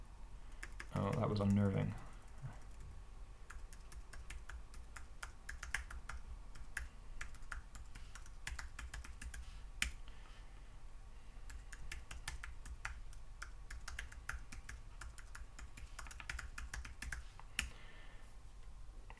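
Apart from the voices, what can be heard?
typing a passphrase on a computer keyboard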